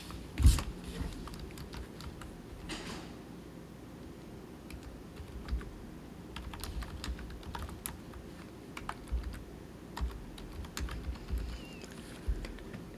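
Keys clatter in quick irregular bursts as text is typed on a computer keyboard for a Photoshop text layer, close and fairly quiet over a steady low room hum, with one louder knock near the start.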